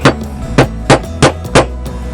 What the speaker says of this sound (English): And go ahead and hammer away.